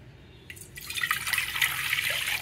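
Water poured from a glass into a pan to make sugar syrup for gulab jamun, starting after a brief quiet moment and building into a steady splashing, gurgling stream close by, with no one speaking.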